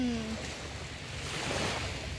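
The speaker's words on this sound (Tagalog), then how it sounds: "Ang ganda ng dagat" Sea waves washing steadily near a shore with small boats about, a soft continuous wash of surf under wind, fairly faint and unbroken, with a brief tonal sound at the very start.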